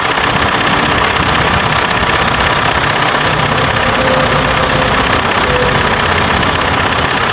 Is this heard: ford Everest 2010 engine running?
yes